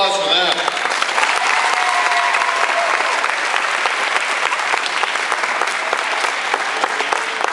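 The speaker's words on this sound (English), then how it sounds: "One more round of applause for them" A graduation audience breaks into loud, full applause from a large crowd, sustained evenly throughout, with a voice heard briefly at the very start.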